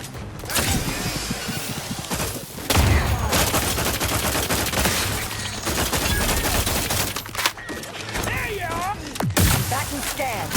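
Gunfire in the video game The Outer Worlds 2, a dense, continuous fusillade of shots with sharp bursts and heavy thumps running throughout, loud and close, with game voices talking over the battle.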